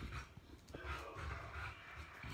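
A pet dog pants close to the microphone indoors, quick rhythmic breaths in bursts with a faint whimper, fairly quiet and with no talking.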